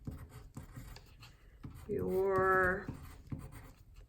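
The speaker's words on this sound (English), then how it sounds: "Then I'm going to turn it and I'll write" A pen scratches across the paper of an origami fortune teller in a short, steady burst of close writing. A person talks quietly before and after the writing.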